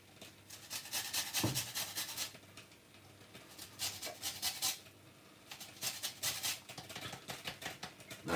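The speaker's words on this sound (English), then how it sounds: "we're gonna just, just grate a, a little bit of zest of the lemon on it" A lemon is grated for zest over salmon, giving rapid dry scraping strokes in uneven bursts with short pauses between them, close and fairly quiet with no voices.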